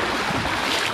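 Strong river waves rush on the Bitbit River in Norzagaray, Bulacan, a loud, close, unbroken wash of water noise filling the whole second.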